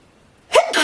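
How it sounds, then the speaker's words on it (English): A single sharp, loud sneeze close by, caught after a brief silence and followed by a short breathy tail, in a dusty room while a bookshelf is being organized. "I promise I'm done sneezing."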